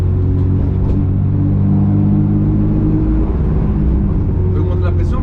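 A turbocharged BMW E36 with an M50B25 six-cylinder running about 1.4 bar of boost drones with a loud, steady low rumble throughout, while people talk over it.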